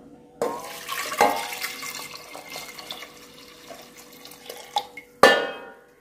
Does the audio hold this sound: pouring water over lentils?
yes